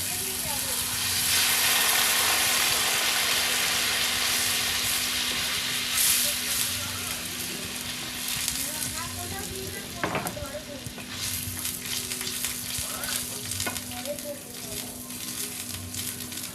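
Hilsa curry masala sizzles loudly in a hot pan as water is poured in, a bright steady hiss that eases into softer bubbling frying with occasional stirring clinks and scrapes, no talking.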